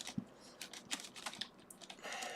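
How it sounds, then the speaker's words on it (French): A computer keyboard being cleaned between the keys, giving faint, close, irregular clicks and taps of the keys, quiet and alone. "je fais vraiment bien entre toutes les touches ici"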